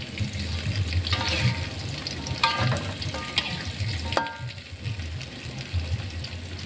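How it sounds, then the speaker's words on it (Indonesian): Spice paste sizzles and fries in a pan with a steady crackling hiss, punctuated by occasional scraping and clinking as it is stirred, continuous throughout. "Tapi di Bang Anas ini lagi numis-numis bumbu"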